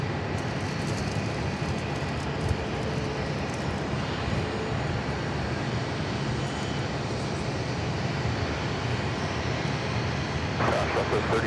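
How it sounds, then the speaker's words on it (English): An Airbus A319 departing Phoenix Sky Harbor for San Antonio produces a steady, fairly loud jet roar that holds for the whole stretch, with faint voices in the background. "This 319 is going to be taking off to San Antonio,"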